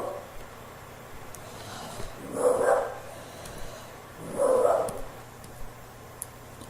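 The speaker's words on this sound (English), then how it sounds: "That's my dog in the background there." A dog barks in the background of an indoor room, two muffled bursts of barking a couple of seconds apart, fairly distant and moderate in level.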